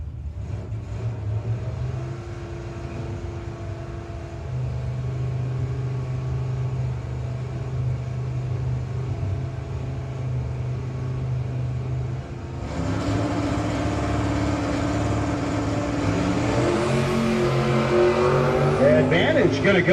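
Drag race cars at a no-box 660 shootout, including a white car and an S10, drone steadily at idle and then launch and accelerate hard, the roar rising and growing louder toward the end under an announcer's commentary.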